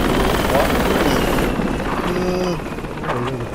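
Helicopter rotor and engine drone from the military video game Project Reality, a steady loud chopping roar throughout with players talking over it.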